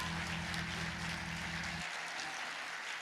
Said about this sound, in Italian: andate a raccogliere tutti gli applausi